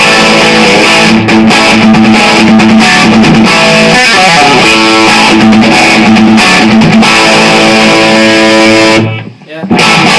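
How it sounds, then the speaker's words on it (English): Heavily distorted electric guitar plays a verse riff loud and up close, with palm-muted chugs and ringing accents, then breaks off in a short gap near the end. "The verse riff should sound something like this."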